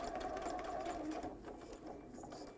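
A sewing machine hums steadily and quietly as it stitches a seam on a scrubs jacket facing, with a continuous whir throughout and a slight change in pitch midway.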